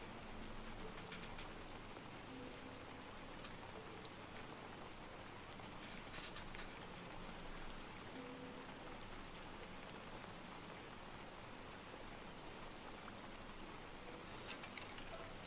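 Steady light drizzle in Against the Storm, a soft continuous patter of raindrops on surfaces at low volume, with faint distant game sounds and no talking.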